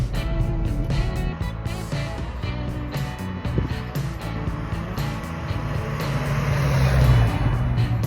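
A classic Ford Cortina Estate idles as it warms up, a steady low engine rumble that swells slightly toward the end, heard close and continuous.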